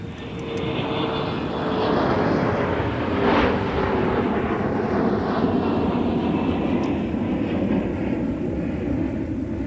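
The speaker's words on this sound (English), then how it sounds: "That's an Endeavour Air CRJ 900 LR headed to Louisville." An Endeavour Air CRJ 900 LR regional jet departs Minneapolis–St. Paul airport with a steady, moderately loud engine roar and a faint whine that swells slightly, then holds.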